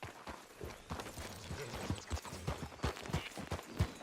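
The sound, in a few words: horse hooves clip-clopping in a video game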